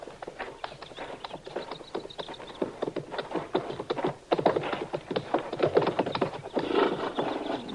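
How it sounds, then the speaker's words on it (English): Horses are led out on a western radio drama set, hooves clip-clopping in a busy, uneven patter with an occasional snort or whinny, moderately close and steady throughout, with no talk over them. "All right, Chester, you can bring the horses out now"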